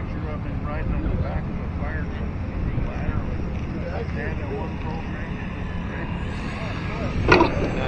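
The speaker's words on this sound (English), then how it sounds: "Windy up here." Steady wind buffeting the microphone outdoors while an FMS 1700mm Tigercat RC plane is flown, a continuous low rumbling roar with faint motor whine, a person's voice talking over it and a brief gust near the end.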